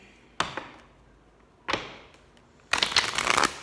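Oracle cards are handled and shuffled close by, two sharp taps each trailing off into quiet, then a denser rustling burst of card riffling near the end.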